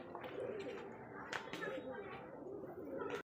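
Rajshahi Giribaz pigeons coo softly and steadily beneath a man's ongoing speech, with a brief louder burst partway through.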